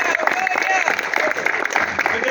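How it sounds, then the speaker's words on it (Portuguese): A church congregation claps during a worship service, a dense continuous patter of applause with crowd voices mixed throughout, fairly loud and close. "Palmas para o Senhor"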